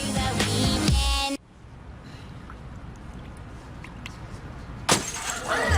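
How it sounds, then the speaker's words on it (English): A glass shatters in a crime drama scene: a loud crash and clatter opens, cuts to a quieter room tone, then another sharp impact follows near the end. "I just broke a glass for no apparent reason"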